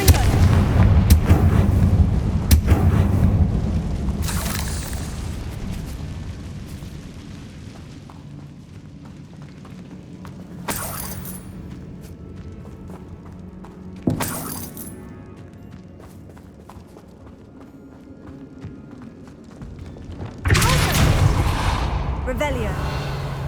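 Confringo blasting spells in the video game Hogwarts Legacy burst in several loud, booming explosions at irregular intervals, each with a sharp crack and a rumbling decay, over a low ambient game background.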